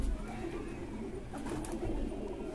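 Pigeons coo softly and steadily among flapping and background rustle at an outdoor pigeon-keeping gathering, faint and a little distant throughout.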